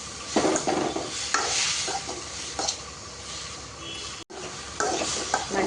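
Tomatoes fry in oil in a pan for South Indian peanut chutney, with a steady sizzle broken by scraping stirs of a utensil and a brief pause before the sizzling resumes.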